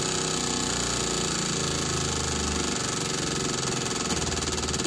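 A Toyota engine idles at about 800 RPM during fuel injector servicing, a loud, close, steady rumble with an even mechanical chatter throughout.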